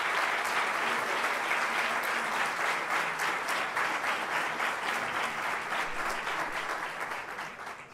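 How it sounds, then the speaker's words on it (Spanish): Sustained audience applause fills a conference hall, a dense steady wash of many hands clapping that carries on for several seconds before tapering slightly toward the end, with no talking over it. "por favor, el aplauso es para ellos"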